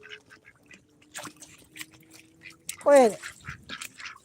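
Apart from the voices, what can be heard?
ducks fighting, one holding another's head underwater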